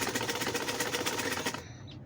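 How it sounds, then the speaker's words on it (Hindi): A sewing machine stitches fabric in a fast, even run of needle clatter for about a second and a half, then stops abruptly. "ये मशीन के नीचे कुछ इस तरह से रख रहे हैं, इनके ऊपर सिलाई चला लेंगे"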